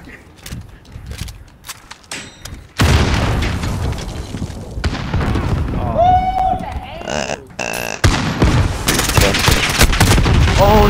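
Gunfire and explosions in the Call of Duty Modern Warfare video game come as loud bursts, rapid automatic fire and booms over roughly ten seconds, mixed with players talking.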